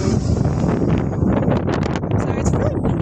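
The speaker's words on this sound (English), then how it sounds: "Sorry, it's really windy" Strong gusts buffet a handheld microphone outdoors, a constant low roaring rumble with a person talking over it.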